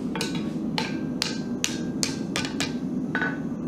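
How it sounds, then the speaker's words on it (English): A steel hammer forges a scroll over the anvil horn with a steady series of about eight sharp, ringing metallic blows, evenly spaced and close, alone without talk. "So you start over the horn. This is your first blow, and you come up. Blows get lighter as the material gets thinner"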